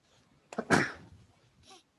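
A single sharp sneeze bursts out, loud and close, followed by a faint breathy sound and otherwise near silence.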